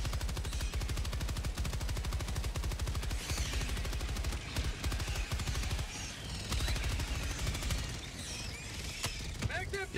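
Sustained machine gun fire in Helldivers 2 on Helldive difficulty: a long, loud, rapid stream of shots with brief breaks and mechanical clatter, set against dense battle noise, with a voice talking.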